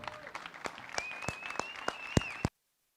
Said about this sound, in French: si les mecs, on peut les applaudir